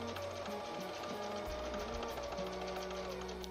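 A sewing machine runs steadily as it stitches a quilt, its motor humming in an even, continuous drone with a fast mechanical rattle throughout, close and fairly loud.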